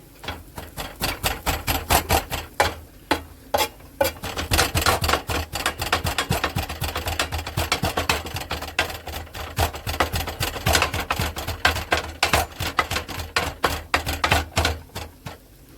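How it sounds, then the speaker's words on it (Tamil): Shop-bought parotta being chopped into kothu parotta on a griddle, rapid metallic clanging strikes in fast irregular bursts, close and loud, continuing throughout. "ஓரளவுக்கு நல்லா கொத்தியாச்சு இன்னும் கொஞ்சம் கொத்தினா நல்லாயிருக்கும்"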